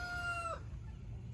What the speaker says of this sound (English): my rooster wants to say hello to everybody